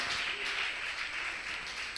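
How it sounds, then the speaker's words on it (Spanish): A church congregation applauds, steady broadband clapping from many hands held at an even level throughout, fairly distant and soft in a reverberant hall. "tu pueblo te da un fuerte aplauso"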